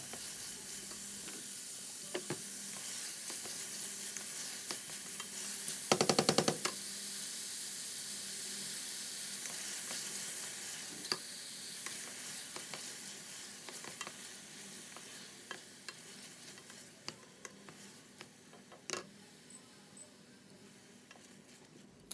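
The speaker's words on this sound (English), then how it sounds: "you still want it to be sizzling" Steady sizzling of vegetables sautéing in a pan for a tuna pasta bake, a constant crackling hiss with a brief louder burst of stirring partway through.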